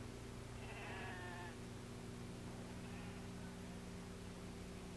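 A sheep gives one faint, distant bleat, then a softer second one, under a steady hum and hiss.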